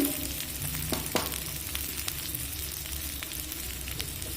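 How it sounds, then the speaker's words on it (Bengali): Sliced onions frying in a pan with oil, a steady close sizzle with occasional stirring scrapes, moderately quiet and with no one talking. "দুটো পেঁয়াজ কেটে রেখেছিলাম পেঁয়াজ দিয়ে আরেকটু ভেজে নেব"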